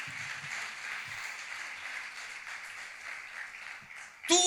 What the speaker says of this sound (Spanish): Dale un aplauso al Señor si se lo vas a dar